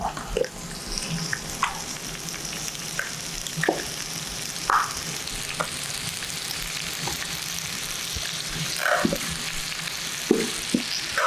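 Napolitan spaghetti frying in a pan as tomato is stirred in, a steady close sizzle broken by the scrape and clack of a utensil stirring through the pasta.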